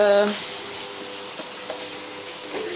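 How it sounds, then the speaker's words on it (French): Chicken pieces cooking with spices in a pan give a steady, soft sizzle and crackle at close range, with a brief louder burst right at the start and faint clinks further on. "donc je fais cuire, griller le poulet avec des épices"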